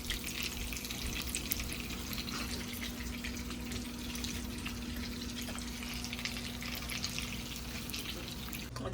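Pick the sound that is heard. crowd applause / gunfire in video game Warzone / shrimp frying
shrimp frying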